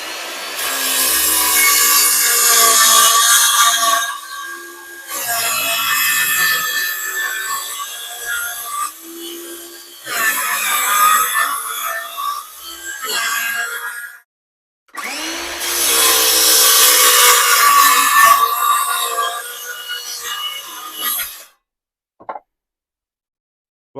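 A track saw whines loudly through wood in several long passes, with short pauses between cuts and a final stop into near silence.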